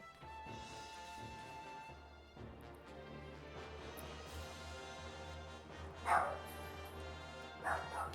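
A pet dog barks and yips in short bursts while scared by fireworks at a neighbours' party, the calls rising over steady background game audio, with a couple of sharp, louder yelps near the end.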